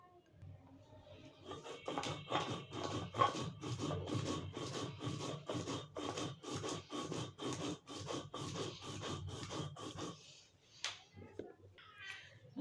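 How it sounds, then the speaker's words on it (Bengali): Red chili is ground into paste on a grinding stone with a steady series of rhythmic rasping strokes, close and even, before a few softer scrapes near the end. "লাল মরিচটা বাইটা দিলে একটু বেশি ভালো হয় তো আমি একটু মরিচটা বাইটা নিব"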